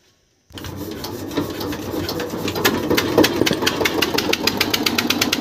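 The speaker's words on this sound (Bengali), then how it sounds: "ইঞ্জিন সকাল সকাল স্টার্ট দিয়ে দিলাম" A fishing boat engine on a river in the Sundarbans starts after a moment of silence, then runs with a close, steady, rapid knocking chug.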